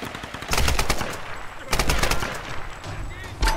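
Bursts of video-game gunfire from a weapon in Tomb Raider, two loud clusters of rapid shots with a short lull between, sharp and close, with faint game ambience underneath.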